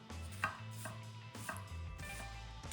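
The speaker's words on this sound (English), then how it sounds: "chopped a few tomatoes" Knife chopping vegetables on a cutting board, a few distinct close taps at irregular intervals over quiet kitchen background.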